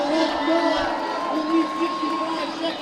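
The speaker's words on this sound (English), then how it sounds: "The crowd is into it. They're cheering him on the best they can." A stadium crowd at a 3000 m steeplechase cheers a BYU runner on the final lap, a steady roar of voices continuing throughout under a commentator talking over it.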